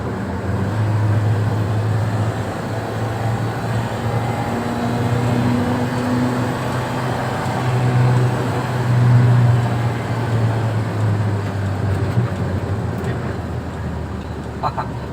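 A car cruises in third gear at around 70, with a steady engine drone and road and tyre roar from inside the cabin, while people talk now and then.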